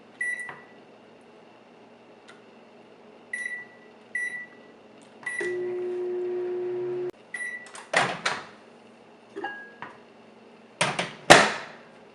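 A microwave oven heats a sample of infant formula: a few short beeps from button presses, then several seconds of steady low humming while it runs, followed by door clunks and more beeps, all fairly quiet in a still room.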